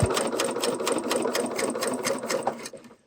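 Serger sewing machine stitching a T-shirt seam, running steadily at close range with a fast rhythmic whir that slows and stops near the end, no talk.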